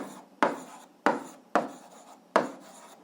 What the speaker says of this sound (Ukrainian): Ну що ж, записуємо відповідь, пишемо відповідь.